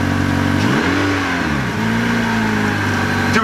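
A 2016 Honda Civic four-cylinder engine revs up and drops back, its pitch sweeping up and down in steady swells, loud and close, with no talking over it.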